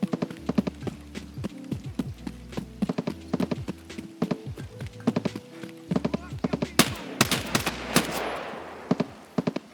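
Unsuppressed 5.56 rifle fire in Escape from Tarkov, loud sharp bursts of rapid shots in clusters with short gaps between them, under intermittent talk.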